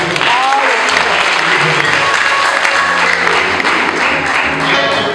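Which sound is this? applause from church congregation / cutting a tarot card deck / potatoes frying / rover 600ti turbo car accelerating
applause from church congregation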